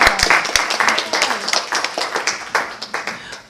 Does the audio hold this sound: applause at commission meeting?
yes